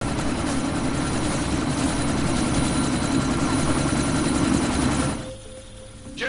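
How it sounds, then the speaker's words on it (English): A helicopter in the Deus Ex: Mankind Divided game idles loud and close before take-off, a steady throbbing rotor and engine roar that drops away suddenly near the end. "That chopper's about to take off!"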